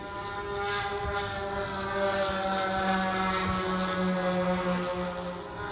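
A large-scale model Boeing 747 with a 12.5-foot wingspan and a 5-foot-tall tail flies past, its engines producing a loud, steady, multi-toned whining drone that holds at nearly constant strength throughout, with no talking.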